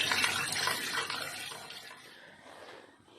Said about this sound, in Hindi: अब ये जो बाकी फ़िश बची थी इसको भी हमने डाल दिया है फ्राई होने के लिए।